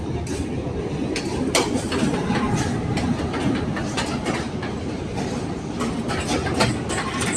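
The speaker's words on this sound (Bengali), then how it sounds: "এই যে ট্রেন চলে আসছে আমাদের" A train pulls into a station in Sri Lanka, near and loud, with a continuous heavy rumble and clattering wheels and occasional sharp clanks over the steady roar.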